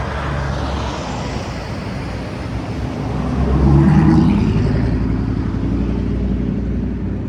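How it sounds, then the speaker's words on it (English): Road traffic rolls past in a steady broadband wash, swelling as a heavier vehicle goes by near the middle, then settling back to a continuous rumble with no talking. "I'm going to let this traffic pass"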